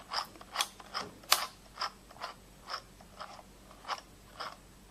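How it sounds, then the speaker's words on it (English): A Handy Stitch handheld sewing machine gives off a series of quiet, sharp mechanical clicks and clacks close up, with no voices. "Make one more stitch."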